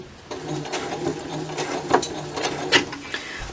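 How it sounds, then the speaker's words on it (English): Sewing machine running a stay stitch to lock a seam on a ribbon skirt, a close rapid mechanical chatter that starts and stops in short bursts with a few louder clunks. "We're going to use a stay stitch. Kind of lock in the seam right here."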